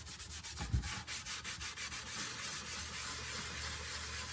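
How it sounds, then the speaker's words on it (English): A Scotch-Brite pad scrubs the old finish off a guitar body in quick back-and-forth strokes, a loud, rhythmic, raspy rubbing that continues steadily with no talk. "Just a little Scotch-Brite, some elbow grease."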